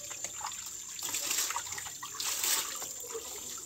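Boneless chicken breast rinsed under a running kitchen tap, water splashing and trickling over the meat in uneven bursts, fairly quiet and close, no talking.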